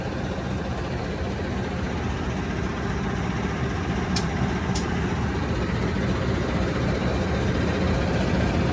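A CC201 diesel locomotive stands idling at a stop, giving a steady, dense low rumble that stays constant throughout, with two brief sharp high clicks partway through and no speech.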